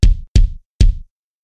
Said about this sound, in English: Now your bass drum sounds like this when played soft,